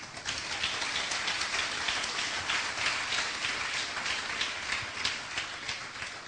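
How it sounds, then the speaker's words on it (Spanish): A congregation at a church sermon claps in sustained, dense applause, a steady hiss of many hands close by without any talk. "Den un aplauso al Señor."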